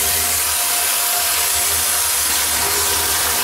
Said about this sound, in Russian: Есть вода горячая, кипяток